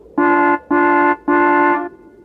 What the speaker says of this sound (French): s'arrêta devant l'atelier et klaxonna très fort